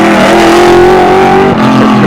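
A 1979 Valdegard rally car, second overall on that year's Monte Carlo Rally, revs hard and close by at a retro rally event, its engine note holding steady and loud, then dipping briefly and climbing again.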